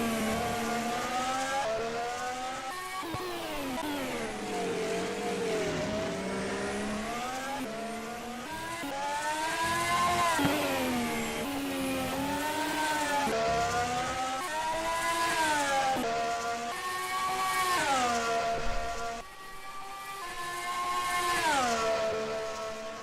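A Red Bull Formula 1 car in a racing video game screams at full throttle around the Mexican Grand Prix circuit, its engine pitch rising and falling through gear changes over a sustained loud whine, with no talk.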